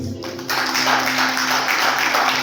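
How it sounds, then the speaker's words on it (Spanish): A church congregation breaks into applause that rises quickly and continues steadily, a dense wash of clapping filling the space. "En el nombre de Jesús, denle un aplauso al Señor."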